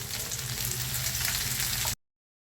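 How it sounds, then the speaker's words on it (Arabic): Onion with sliced green and red bell peppers sizzles loudly in a pan, a steady close frying hiss that stops abruptly after about two seconds. "وهقلب في البصل لغايه لما البصل يدبل"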